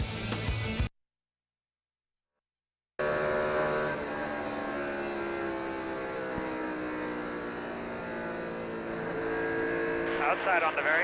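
NASCAR Cup race cars at Michigan in 2006 roar steadily around the track in a dense, continuous engine drone, broken by a short gap of silence near the start, with a commentator's voice over the noise.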